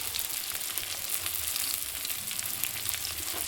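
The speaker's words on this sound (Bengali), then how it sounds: "পেঁয়াজটা বেশি কিন্তু আমি লাল করে ভাজবো না একটু হালকা" Chopped onions, with garlic in the pan, fry in oil for a spicy Lotta fish curry, giving a steady close sizzle with bright crackling and no talk.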